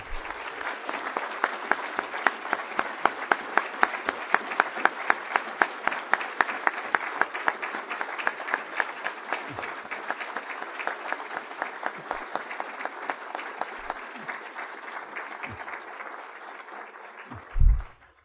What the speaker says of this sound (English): Can we give all 4 of them a round of applause?